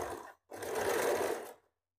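A sewing machine stitches in two bursts close to the mic, a short run followed by a brief pause and a longer steady run, with no voices.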